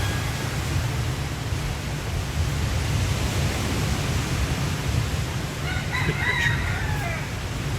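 Roosters crow from a distance on a hillside hike near Puerto Vallarta, Mexico, their calls faint against steady broadband hiss and wind, with one clearer crow toward the end.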